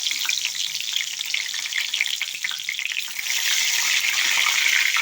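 Curry leaves hit hot oil in a cheenachatti pan, bursting into a loud, crackling sizzle that spits and pops, then settles into a brighter, steadier hiss.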